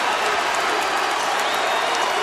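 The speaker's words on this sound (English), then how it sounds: "Listen to this crowd as they just now figure out that Calvin Murphy's record has finally fallen." A basketball arena crowd roars and applauds steadily as James Harden breaks Calvin Murphy's scoring record, a dense, continuous wash of cheering and clapping.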